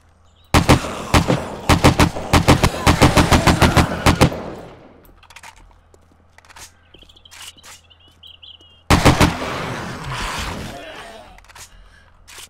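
AK-47 fire in the 7 Days to Die video game: a loud, rapid burst of automatic shots, a quieter pause with scattered sounds, then another loud sustained burst.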